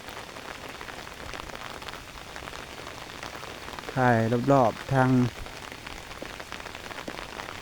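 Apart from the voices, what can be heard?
rain falling on fields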